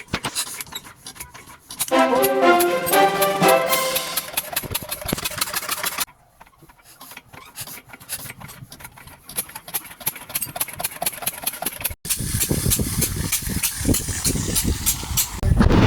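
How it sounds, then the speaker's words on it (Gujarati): A machine engine at a village well-digging site starts and runs steadily, a loud mid-pitched drone with rhythmic pulsing that swells and continues to the end, with a brief break partway through. "તો મશીન ચાલુ થશે અહીંયા."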